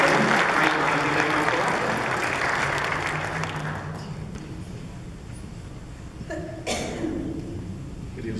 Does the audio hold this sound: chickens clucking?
no